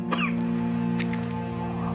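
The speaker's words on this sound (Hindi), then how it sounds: "इसीलिए इतनी खांसी हो रही है।" One short, sharp cough bursts out near the start of an indoor drama scene, followed by a steady low drone that continues with no speech.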